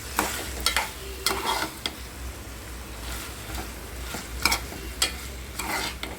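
Okra fried with garlic and red chilli in a pan, stirred over low heat: a soft, steady sizzle with intermittent scraping strokes of the spoon, fairly quiet and close, no talking.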